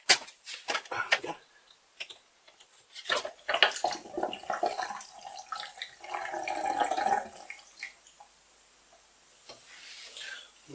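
Water drains from the sump of a Beko EcoCare washing machine into a bucket, with irregular splashing, trickling and drips that surge midway then taper off, fairly close and moderately quiet.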